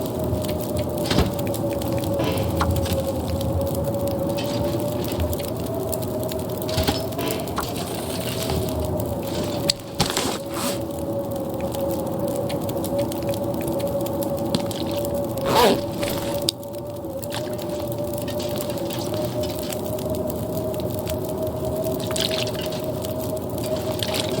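A storm rages outside a shelter in the video game The Long Dark, a steady wind roar with a constant tone running underneath, broken by occasional brief knocks and clicks, with no voices.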